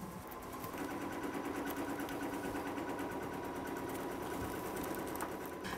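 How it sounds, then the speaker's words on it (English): A BERNINA embroidery machine stitches a five-sided placement line, a steady fast whirring hum with rapid needle chatter running continuously and close by. "the machine will sew out a five-sided placement"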